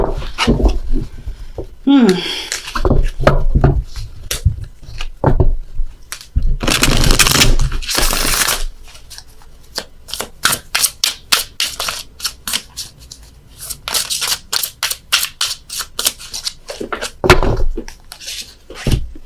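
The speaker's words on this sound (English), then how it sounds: "Dropped a load of cards here on the floor, so I gotta shuffle again." Tarot cards are shuffled by hand, a run of quick crisp riffles and rapid flicking slaps, with bursts of louder shuffling and talk mixed in between.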